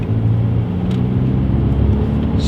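Diesel engine of an Audi A4 TDI with its EGR valve removed, running with a steady, even low rumble close by for the whole stretch, with no voices.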